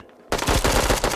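A sudden burst of rapid automatic gunfire in the Bullet Echo mobile shooter game, loud and close, with fast repeated shots running continuously after a quiet start.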